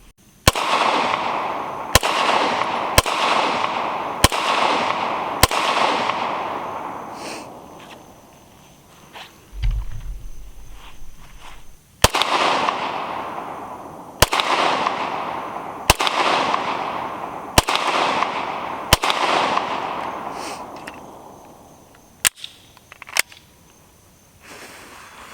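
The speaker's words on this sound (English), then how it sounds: "we'll take 5 shots from 20 yards and see how we do" Gunshots ring out at a target 20 yards away: a burst of about five sharp cracks in quick succession, then a pause with a faint low thump, followed by another volley of five and two closing shots, each with a decaying echo.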